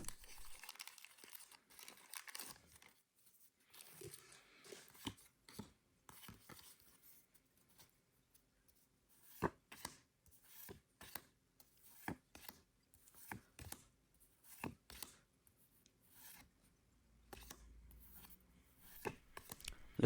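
A Pokemon trading card booster pack from the Journey Together set being torn open and its cards handled, with sharp crinkling foil bursts and snaps scattered through quiet rustling, close and fairly faint.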